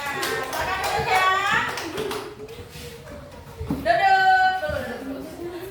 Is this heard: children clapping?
yes